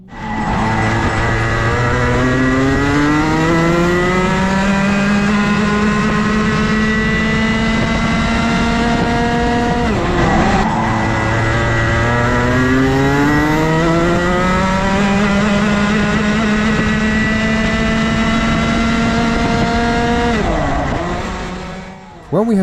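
A go-kart engine with a changed exhaust drones loud and close around a track, its pitch climbing steadily, then dropping sharply twice at the corners before climbing again.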